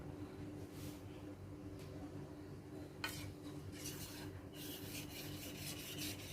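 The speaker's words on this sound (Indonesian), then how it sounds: "ini batu asahannya halus ini, kita lebih dikit lagi" A machete is sharpened on a fine whetstone, making quiet scraping and rasping strokes in an irregular rhythm, some louder and brighter toward the end, against a low background hum.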